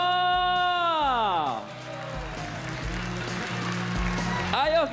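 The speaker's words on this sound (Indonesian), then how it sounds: "Tepuk muda untuk Chandra" Audience applause at a young pendekar showcase rises after a drawn-out spoken voice and carries on with steady clapping under sustained musical tones. The voice returns briefly at the end.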